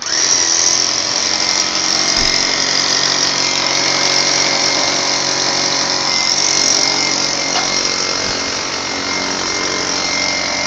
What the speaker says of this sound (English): Drilling our dowels.